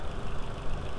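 Exhaust pulses gurgle through the secondary air injection combi valve on a VW A4 1.8T (AWD engine), a steady low rumbling flutter of engine idle close by, with no talking.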